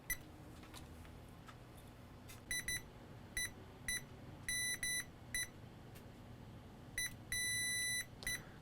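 Multimeter in continuity mode, emitting a series of short high electronic beeps of varying length, some brief chirps and a few longer tones, irregularly spaced over quiet room noise while probing a broken USB drive circuit.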